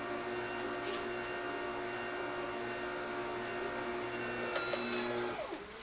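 An electric pasta maker hums steadily in forward mix while blending dry ingredients for dough, a constant motorized drone with faint rattles and a short clatter toward the end.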